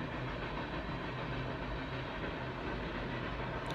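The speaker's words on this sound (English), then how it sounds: "We live by the train, and the window is open." A train passes outside an open window of a home beside the railway, a steady, low, distant rumble that holds constant with no distinct clatter and no talking.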